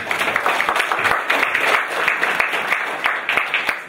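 Audience applause at a company presentation, steady sustained clapping from a sizable crowd, fairly loud and even throughout.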